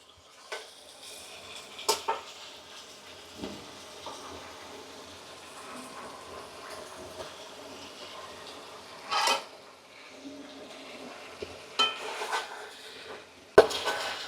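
Fish coated in spices is stirred in a pan, a faint sizzle running beneath occasional sharp clinks and scrapes of a utensil against the metal, spaced irregularly and close by.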